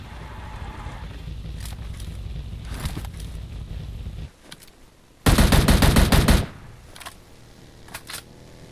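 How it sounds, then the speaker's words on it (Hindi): Automatic gunfire in a battle royale video game, opening with a low rumble and scattered single shots, then a loud, tight burst of rapid fire in the middle, followed by a few faint distant shots. "तभी अचानक से मुझे सामने से एक बॉट की फायर आती है"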